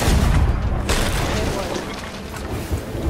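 Ship cannons firing in a pirate video game, heavy booming blasts with rumbling low-end impacts, loud and close, under excited talk from players.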